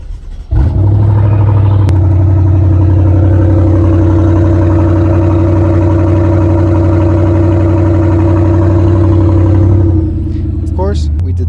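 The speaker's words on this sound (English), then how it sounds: "Mike and I went for a quick test drive with no exhaust" A BMW 650i M Sport drives with no exhaust fitted, its V8 giving a loud, raw, steady drone close by for about nine seconds before it eases off, with brief rattling near the end.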